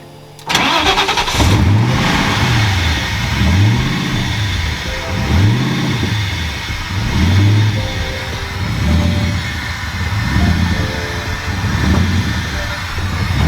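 A DriftStang drift car engine cranks and catches, then settles into a loud, close, lumpy idle with rhythmic surges in revs, and no talking.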